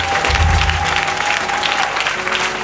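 A church congregation at a Sunday service bursts into applause for the Lord, a dense burst of clapping from many people that swells early then continues steadily, with a faint murmur of voices beneath.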